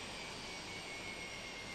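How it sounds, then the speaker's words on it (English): The plane carrying the Chinese delegation to the Hong Kong handover ceremony arrives, a faint, steady jet-engine roar and whine holding evenly throughout, with no voices. "The plane carrying the Chinese delegation for the handover ceremony of Hong Kong."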